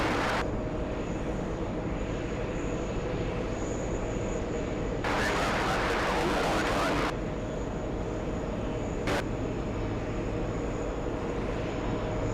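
Jet aircraft Angola 1 taxiing at an airport, a steady low engine rumble and whine with a brief louder burst of broadband noise partway through, heard from a nearby vantage point.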